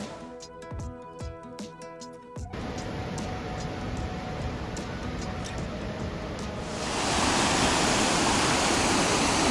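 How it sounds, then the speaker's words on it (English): Strong current of flowing water at the first waterhole of Mossman Gorge, a steady loud rush of stream and falls that swells louder toward the end, with faint tonal sounds early on. "This is the first waterhole, and I actually have the warnings like we just read about the strong currents."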